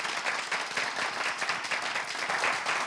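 Studio audience applause on a French television quiz show welcoming contestant Rémi: dense, steady clapping at moderate loudness, continuous from start to finish with no voices over it.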